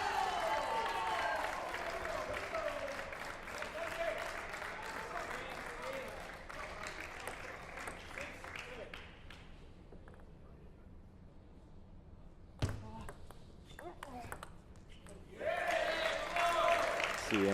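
A crowd at a collegiate table tennis team final applauds, steady clapping that fades to near quiet before a sharp knock and a fresh burst of applause, with a commentator talking over it.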